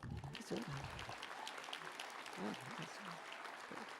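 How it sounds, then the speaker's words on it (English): Audience applause at a technical college commencement ceremony, a continuous moderate patter of clapping from a crowd, with a voice speaking over it. "You can clap."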